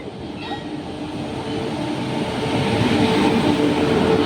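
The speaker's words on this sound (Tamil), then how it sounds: "இங்க பாரு, ட்ரெயின் வந்துச்சு." A train pulling into a station in Chennai, a steady rolling rumble with faint squeal that grows gradually louder over the few seconds, with crowd murmur in the background and no clear talk.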